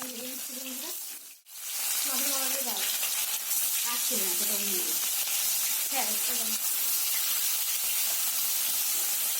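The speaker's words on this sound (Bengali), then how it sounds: "মাছগুলো আমি আবার ভেজে নিচ্ছি" Rohu fish pieces frying in hot oil for a mustard-poppy curry, filling the scene with a loud, unbroken hiss and sizzle while a voice talks over it in short phrases.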